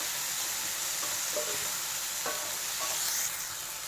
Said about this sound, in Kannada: ಇದಿವಾಗ ಫ್ರೈ ಆಗ್ತಾಯಿದೆ ಮಶ್ರೂಮ್ಸ್ ಎಲ್ಲ